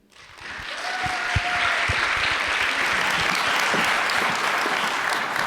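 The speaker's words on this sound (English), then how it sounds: "I think she deserves another round of applause." Audience applause at a UNESCO youth forum on transforming education, a steady sustained clapping from a large room that swells in quickly and holds evenly throughout.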